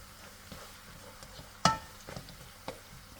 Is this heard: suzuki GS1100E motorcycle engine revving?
no